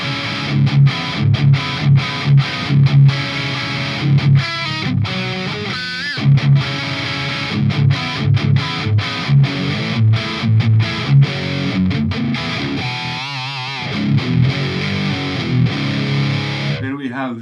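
Heavily distorted electric guitar played through a Marshall cabinet with an EVH speaker, chunky palm-muted rhythm chugs punctuated by short stops and sustained chords, loud and close with a brief pinched squeal near the end.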